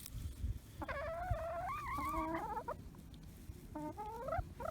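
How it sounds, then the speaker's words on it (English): Backyard chickens near their coop give a few warbling, throaty clucks in two separate bursts, close by, over a faint buzzing of insects and no talking. "So I still have 2 chickens left."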